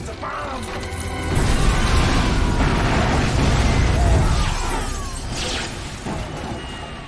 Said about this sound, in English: It's a bomb!